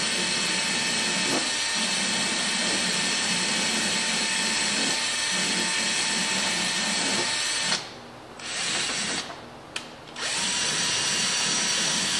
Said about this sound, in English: Just going to use a wire brush on this drill that I had just sitting there.